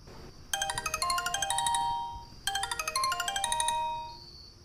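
A mobile phone rings with an incoming call, its bright electronic melody playing twice in two quick, identical bursts, clear and fairly close against a quiet background.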